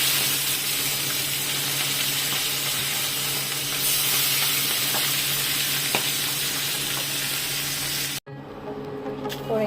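Pieces of bhetki fish sizzle loudly in hot oil in a pan, a steady, dense frying hiss that runs unbroken before cutting off abruptly near the end.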